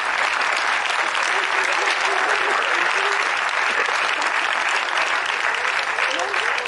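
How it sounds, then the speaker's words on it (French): An audience at an amateur-night stage hypnosis show in Nozay breaks into loud, steady applause that fills the whole stretch, dense and sustained, with voices faintly mixed into the clapping. "je pense qu'on peut les applaudir"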